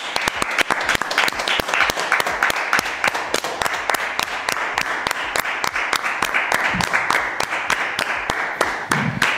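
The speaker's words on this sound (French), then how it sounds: "je propose qu'on fasse un applaudissement global" Applause and clapping for healthcare workers during a pandemic lockdown, heard through open apartment windows as neighbours join in; a steady, continuous patter of many hands keeps up throughout at moderate loudness.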